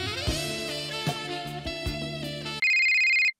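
A phone ringtone plays a loud, close musical melody, then cuts to a sustained electronic beep tone before stopping.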